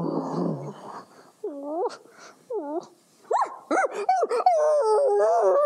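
A dog howls and whines in a series of rising, wavering cries, first short and broken, then building into a longer sustained howl, close and fairly loud.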